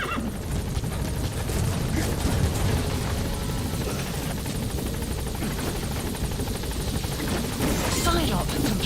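In Metal Gear Solid V, an extraction helicopter arriving at Mother Base gives a loud, steady rotor roar and thrum that stays constant the whole time, with radio voices speaking over it.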